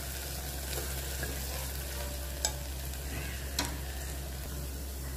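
A spoon stirs Agri Koli masala into a cooking vegetable in a pan, making a few soft scrapes and taps over a low, steady sizzle and background hum.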